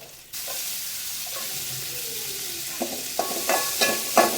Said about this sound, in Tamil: இப்போ இதே எண்ணெயில் நம்ம வந்து வெங்காயம் சேர்த்துக்கலாம்